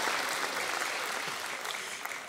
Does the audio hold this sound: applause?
yes